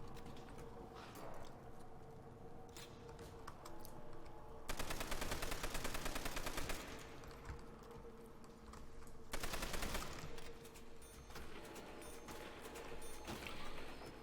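Call of Duty: World at War Nazi Zombies gunfire: two long bursts of rapid automatic fire stand out over a steady background of game noise, fairly faint and with no talking.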